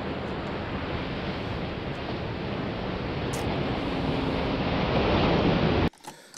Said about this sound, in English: Slow Ocean, sounds like a slow white noise